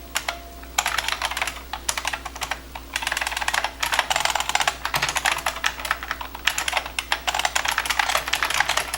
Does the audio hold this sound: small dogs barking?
no